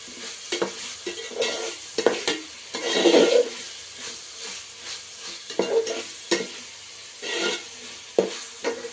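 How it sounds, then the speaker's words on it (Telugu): Ginger paste fries in a pan while a spoon stirs it, making soft sizzling and crackling broken by repeated scraping strokes and light clinks, close and fairly quiet. "ఇప్పుడు అల్లం ముద్ద వేస్తున్నానండి"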